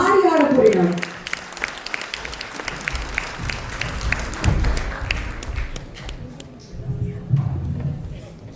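Scattered audience clapping at a large stage arts show put on by children in Germany, rising briefly amid crowd murmur and voices, with music playing at the start.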